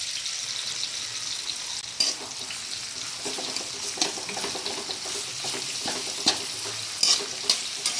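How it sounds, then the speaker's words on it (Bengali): Chopped onion sizzles in hot oil, a steady frying hiss broken by several clinking stirs of a utensil against the pan, with no talk. "পেঁয়াজটা আমি ভেজে নেব।"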